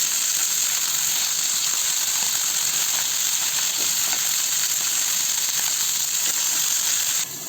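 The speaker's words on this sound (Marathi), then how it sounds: "आता हे आपण छान परतून घेऊया. आपण मी फास्ट गॅसवर भाजून घेतोय." Garlic cloves and green chillies, with tomato and raw mango, fry on high flame for a chutney, giving a steady, even sizzle and hiss that holds throughout before dropping slightly at the very end.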